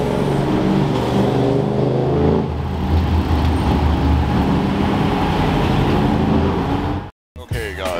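A Lotus Emira sports car passes on a rainy road with a loud, continuous engine and tyre roar that stays strong and then cuts off abruptly near the end.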